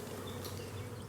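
Dense buzzing of honey bees swarming around brood frames from an open hive during a Demaree split, a steady close hum with no talk.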